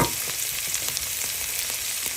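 Mixed vegetables fry in a pan for Japanese-style fried rice, producing a dense, even sizzle up close, broken by small crackles and faint stirring taps.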